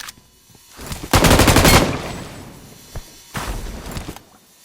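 Rapid bursts of automatic gunfire in a battle royale video game, one long loud burst followed by a single shot and a shorter second burst, close with no talking.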